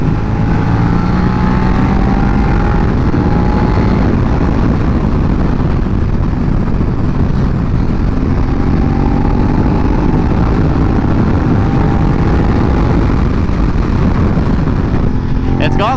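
2019 Suzuki SV650X motorcycle engine on a test ride, a loud continuous drone mixed with heavy wind rush, with rising and falling pitch as the bike accelerates and a rider talking over it.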